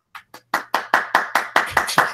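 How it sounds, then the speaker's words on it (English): Rhythmic handclaps, about ten sharp evenly spaced claps that grow louder after the first two, sounding like one or a few people clapping rather than a full crowd. "And he gets a round of applause."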